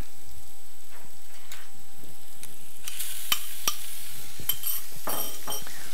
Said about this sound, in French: On l'écrase bien à l'aide de la cuillère.